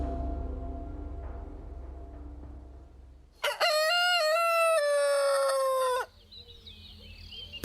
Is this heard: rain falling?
no